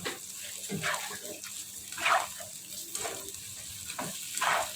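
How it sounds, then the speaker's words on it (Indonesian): Long beans and tofu pong are stirred in a pan as they fry, giving a soft, steady sizzle broken by faint scraping strokes of the spatula. "Kita aduk rata."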